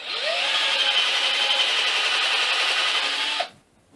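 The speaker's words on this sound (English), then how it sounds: "now we need to drill a few holes" Power drill boring a countersink into the underside of a wooden drinking-game base, a steady loud whirring grind running about three and a half seconds before stopping abruptly.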